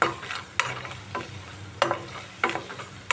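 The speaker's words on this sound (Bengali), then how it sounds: "এবার আমি এই কলাই ডালের বড়িগুলো একটু ভেজে নেব" Kalai dal bori, small lentil dumplings, fry in a pan with a soft steady sizzle, punctuated by about five regular scraping stirs of a spatula, close and clear with no talking.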